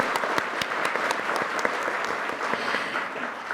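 Attendees at a Korean policy forum on converting firefighters to national civil servants applaud a departing party leader. The clapping is brisk and continuous, with crisp individual claps standing out within a full, steady wash.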